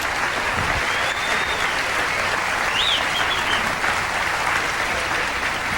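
Audience applause after a country song, a steady, dense wash of clapping from a crowd that holds evenly for several seconds, with no clear talk over it.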